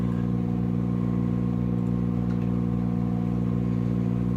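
A turbocharged 3800 engine with its wastegate reference line off runs steadily and loudly up close, a dense sustained drone with strong low harmonics and no talk over it.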